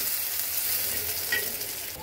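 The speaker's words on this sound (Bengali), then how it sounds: "এইবার পেঁয়াজটাকে একটু সুন্দর করে ভেজে নেব।" Chopped onion and green chilli fry in a pan for pulao, giving a dense, even sizzle close up with a faint stir or two and no speech over the short stretch.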